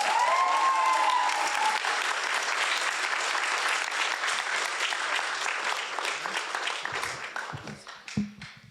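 Sustained applause fills a debate hall as an audience claps steadily for a participant, strong at first and gradually thinning out toward the end, with a few scattered claps and stray sounds as it dies away.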